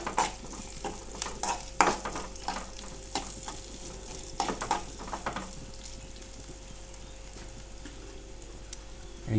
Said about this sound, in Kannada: ಈ ರೀತಿ ಸುರಿದಾದ ನಂತರ ಒಳ್ಳೆ ಮಾಡಿ ಹುರಿಲಿಕ್ಕಿದೆ.